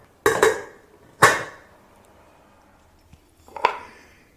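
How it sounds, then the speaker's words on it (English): A lid goes back onto a container of fermenting tomato wine, heard as a few sharp plastic clacks and knocks close by, with a quiet pause before a final snap. "Let's go ahead and put our lid back on."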